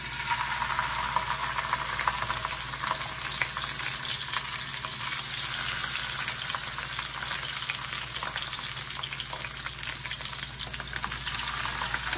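Salmon fish frying in a hot pan makes a loud, continuous, close sizzle that holds steady without pauses.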